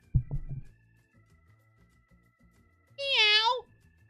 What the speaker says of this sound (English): It's a cat meowing.